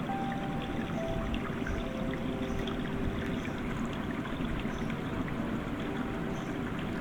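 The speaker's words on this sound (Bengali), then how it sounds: "রসুন কুচি দিয়ে একটু হালকা লাল লাল করে ভেজে নিব।" Chopped garlic frying in oil in a home kitchen pan, giving a steady, dense sizzle that runs unbroken and fairly loud throughout, with no talking.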